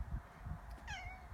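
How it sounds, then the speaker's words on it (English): A house cat meows once near the end, a clear rising-and-falling call over low background rumble in a garden setting. "I have a cat here."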